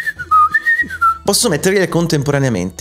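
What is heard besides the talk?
whistling sound effect played in Foundry VTT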